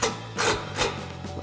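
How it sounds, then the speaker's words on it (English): Ratchet driving a 4mm Allen socket to tighten flange-nut bolts on a RedRock HD front bumper of a Jeep Wrangler JL, giving two close, rasping bursts of ratcheting over a steady background hum. "Now we can tighten these down using our 4mm Allen socket."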